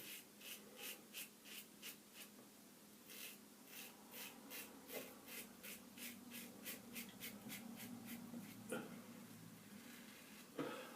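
A Gibbs No17 adjustable safety razor scrapes through facial hair in a series of quick, evenly spaced rasping strokes, close and quiet, with soft breathing between passes.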